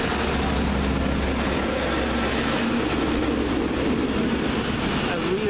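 A Class 390 train, unit 390013, runs into Crewe station on a Manchester Piccadilly service from London Euston, giving a steady, loud low rumble and broadband roar that carries through the whole stretch.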